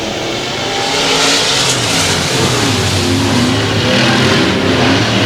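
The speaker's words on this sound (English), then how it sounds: "Somebody got a broke header." Race car engine with a broken exhaust header at Heart O Texas Speedway, a loud steady roar close by, holding at a sustained pitch with no pauses throughout.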